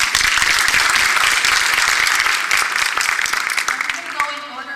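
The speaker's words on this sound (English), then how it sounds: "let's give them all a round of applause" Loud, dense applause from a seated audience at a panel discussion on language immersion programs, continuous crisp clapping that gradually thins toward the end as a voice begins to speak.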